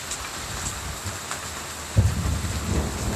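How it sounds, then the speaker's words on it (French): Steady heavy rain pours down, then a loud rumble of thunder rolls in and lingers beneath the downpour. "sous le rideau de pluie là"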